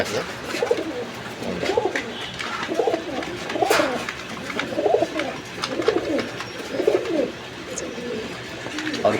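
Pigeons coo in a loft where a pair sits on eggs, a regular series of low throaty coos repeating every second or so at close range over a faint background hum.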